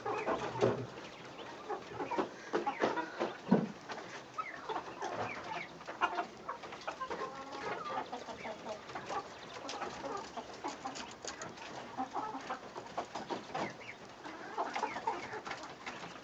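Silkie chickens cluck and coo in a barn, mixed with other bird calls, a steady busy chorus of soft, irregular clucks at moderate distance with no talking.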